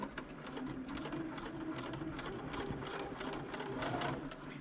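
A sewing machine stitches a straight seam on Christmas stocking fabric in a fast, even run of needle strokes that stays close and steady throughout.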